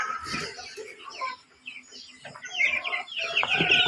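Chicks kept in a cage give off bright, busy peeping and chirping, close and fairly loud, with clucking fowl calls mixed in and a few rising chirps toward the end.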